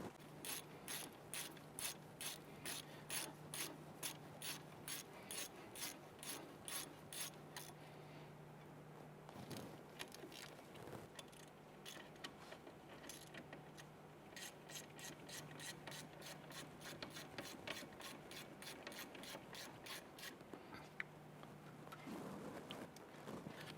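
Bolts on the upper ball joint of a 1999-2004 Jeep Grand Cherokee are snugged down with a ratchet, giving a steady run of quick, faint clicking strokes in two bursts, close to the microphone, with no talking.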